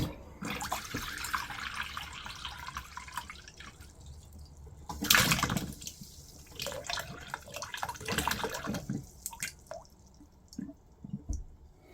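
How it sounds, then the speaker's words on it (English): Water runs from a caravan bathroom tap while the system is drained down, with splashing, dripping and squishy gurgles close by, including a louder gush midway, and no talking. "let's try the bathroom tap."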